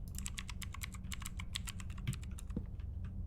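Fast, steady keyboard typing in the video game A Place, Forbidden: dense crisp key clicks running throughout over a low background hum, alone without speech.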